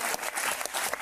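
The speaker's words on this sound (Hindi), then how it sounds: "थैंक यू और जेन्युइनली सबके लिए तालियां," Short burst of applause from an audience at a roast-style show reacting to a reality TV finale, a dense wash of clapping that stays fairly soft and steady throughout.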